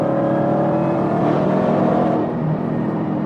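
A modified car's engine at a car meet in Fort Worth, Texas, a loud, sustained, close-up roar that holds steady as it gains speed, then eases slightly near the end, with no voices.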